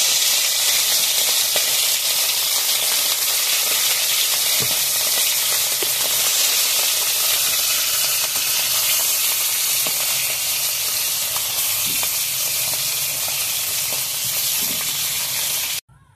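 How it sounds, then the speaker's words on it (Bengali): Tuna fish pieces fry in hot oil in a pan, giving a loud, steady, unbroken sizzle and hiss that runs without a break before cutting off abruptly at the end. "তেল গরম হয়ে গেছে, এখন মাছগুলো দিয়ে দিচ্ছি।"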